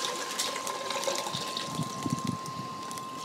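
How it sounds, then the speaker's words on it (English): Cold water pours steadily into a jug outdoors on a patio beside a camp stove, a soft continuous splashing trickle with small gurgles, close by and fairly quiet. "we're going to put a litre of water in it. Cold water."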